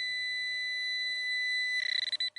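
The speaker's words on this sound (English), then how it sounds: "The Pro-pointer's audible and vibrating alarms increase in intensity based on the" Steady high electronic tone from a Garrett Pro-Pointer handheld metal detector alarm, holding constant and then pulsing rapidly near the end as it closes on a buried target, heard alone with no talking.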